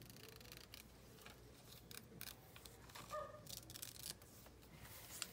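Scissors snip through magazine paper to cut out a figure for a small collage, making quiet, close crisp cuts with soft paper rustling and no talk.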